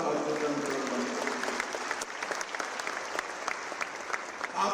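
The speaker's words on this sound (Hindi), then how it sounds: "ताली बजा रहे हो, हर्षनाद कर रहे हो" A large crowd applauds steadily at a political rally in Jodhpur, Rajasthan, addressed by India's Union Home Minister. Dense, continuous clapping with scattered cheers holds throughout, loud and close, with no talk over it.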